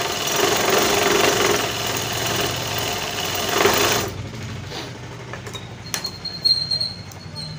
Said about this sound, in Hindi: पट्टी में पहले किनारी का सिलाई मार लेंगे, किनारी का सिलाई पहले मारना।